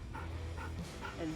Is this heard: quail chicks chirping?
no